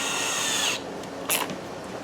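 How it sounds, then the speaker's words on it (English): A power drill bores a 1/4-inch hole in a metal mounting bracket, whirring steadily for under a second before stopping, followed by a brief rattle close by. "So what I'm going to do is drill out a 1/4-inch hole"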